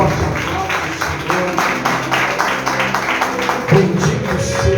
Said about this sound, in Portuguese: Dê mais um forte aplauso.